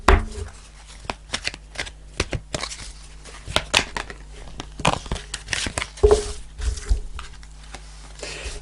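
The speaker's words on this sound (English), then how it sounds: "I'm going to pull a fairy card" Fairy oracle cards are shuffled and one is pulled during a weekly tarot reading, giving a steady run of close, crisp riffling and flicking with sharper card snaps, with no talking.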